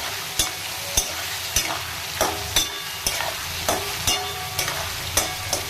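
Spice paste seasoned with salt and sugar fries in a pan under a constant sizzle, while a spatula scrapes and knocks against the metal in regular strokes, roughly twice a second.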